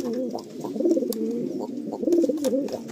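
Racing pigeons coo in a small breeding loft tucked into a stairwell room, a steady run of throaty rolling coos repeating in close succession, near and moderately loud without speech.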